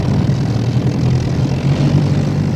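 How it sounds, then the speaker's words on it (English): Propeller aircraft taking off in an audio drama, a loud, steady engine drone with a low rumbling hum that holds evenly throughout, with no voices. "Ginger took off and headed north, keeping close to the coastline."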